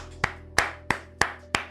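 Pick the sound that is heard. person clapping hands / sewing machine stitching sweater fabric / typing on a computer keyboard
person clapping hands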